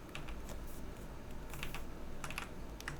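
Computer keyboard keys tapped while entering shortcuts in Blender: quick, close, irregular clicks in small bursts over a low room hum, with no talking.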